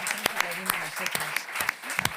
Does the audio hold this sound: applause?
yes